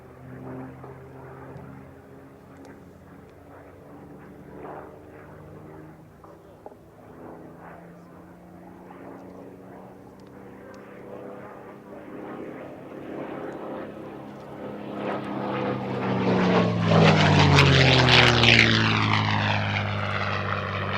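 A Merlin-engined P-51D Mustang propeller fighter flies past at an airshow, its engine drone building from distant to loud and close, then holding a swelling roar with a sweeping pitch shift as it passes.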